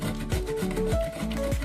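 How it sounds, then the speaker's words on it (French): A coconut is grated by hand, giving steady rhythmic rasping strokes close up with no talking. "On va commencer par râper la noix de coco."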